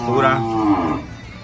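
A Gyr heifer on a farm gives one loud, close moo lasting about a second, its drawn-out tone dipping slightly before trailing off into quiet.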